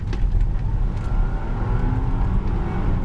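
Engine of a 1998 Mercedes-Benz CLK320 (W208) roaring at full throttle from inside the car, a loud, steady, dense drone with road rumble and no break.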